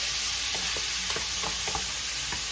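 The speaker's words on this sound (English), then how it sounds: "Stir them up." Beef mechado ingredients being stirred in a hot sauté pan, a steady sizzle with repeated scraping strokes of the spoon close up, no voices.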